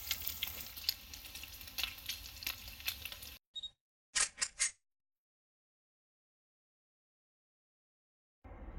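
Food sizzling and frying on a camping stove outdoors during winter carp fishing, a steady crackling hiss with stirring clatter that stops abruptly, followed by a few short bursts and then near silence.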